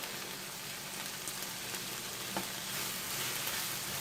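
Chopped mushrooms fry in a hot pan with a dense, continuous sizzle and crackle, close and fairly loud, with no voices over it.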